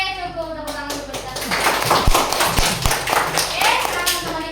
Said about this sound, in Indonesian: cukup tepuk tangan untuk kita